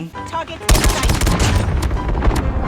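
Rapid SKS rifle fire in Call of Duty Mobile, a dense loud burst of repeated gunshots that starts abruptly and continues steadily, with an excited voice speaking over part of it.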